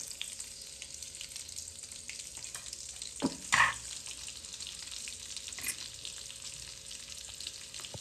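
Cumin and crushed garlic frying in oil, a steady faint sizzle with a brief louder crackle and clatter midway, no talk.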